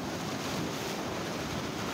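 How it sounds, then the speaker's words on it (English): Ocean waves break on a rocky shore at Pomene in a loud, continuous roar of surf, with wind buffeting the microphone. "Waves are coming."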